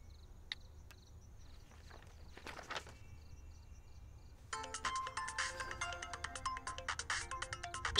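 A telephone ringtone bursts in partway through, after a stretch of quiet shuffling and a few faint footsteps, then keeps ringing steadily and fairly loudly to the end in an indoor drama scene, with no one speaking.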